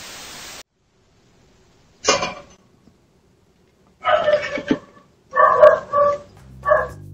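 A dog guarding its home barks in short, sharp bursts, one single bark followed by a run of louder barks close by, with brief silent gaps and a burst of static in between.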